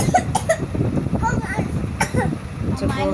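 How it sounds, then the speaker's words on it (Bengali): A few sharp coughs from a person at home, with clearing throat sounds mixed into nearby talking and low room noise. "কাশি পাচ্ছে"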